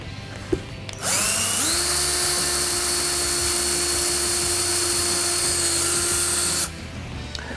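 A power drill bores pilot holes in a subwoofer enclosure during an Alpine amp and subwoofer install in a Ford F-150. A single continuous high, whining run of about six seconds starts abruptly and stops abruptly, loud and close, with no voices.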